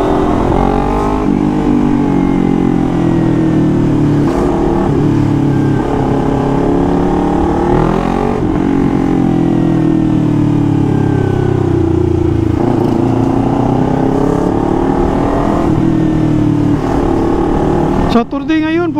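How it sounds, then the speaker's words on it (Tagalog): A sports motorcycle rolls through slow city traffic, its engine droning loudly and steadily up close with gentle rises and falls in revs, wind rush layered over it, and a rider talking throughout. "pag gamit mo yung sports bike na ganitong sitwasyon"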